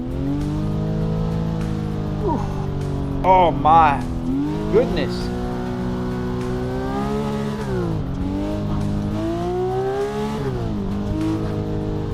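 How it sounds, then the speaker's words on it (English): A car engine in a driving video game revs loudly and steadily with rising and falling pitch throughout, sustained and close, while a person exclaims briefly over it. "Maybe the car is a little bit too loud."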